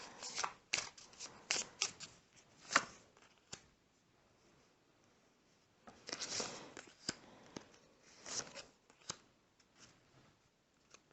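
Playing cards are shuffled and riffled close by in two quick bursts separated by a brief quiet pause, crisp flicking and snapping, no talking.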